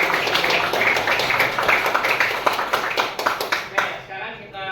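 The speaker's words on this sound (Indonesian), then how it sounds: "Berikan tepuk tangan untuk temannya siap sudah berangkat" A classroom of students claps together, a brisk, fairly close burst of hand claps lasting about four seconds before trailing off into a short pause.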